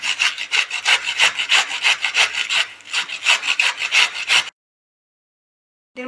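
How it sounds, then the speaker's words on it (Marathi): Cabbage being finely grated for vegetable kofta, a steady run of rapid rasping scrapes, close and fairly loud, that stops abruptly with near silence to the end. "आपण कोफ्त्यासाठी पत्तागोबी काट करून घेणार आहोत"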